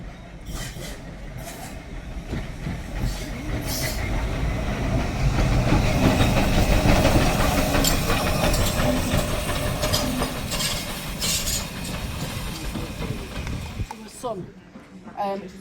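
A heritage steam train on the Embsay & Bolton Abbey railway rumbles along with a steady clickety-clack of wheels on rail joints, growing louder then slowing and fading near the end, while people talk throughout.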